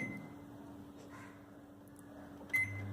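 A Samsung microwave oven being set to slim fry mode gives a few faint electronic beeps over a quiet background hum, the last one slightly louder.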